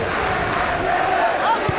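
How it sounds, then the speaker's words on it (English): A football crowd at Kilmarnock v Celtic roars with a sustained, loud cheer from the Celtic fans, a dense wall of voices filling the stadium without pause. "A good cheer here."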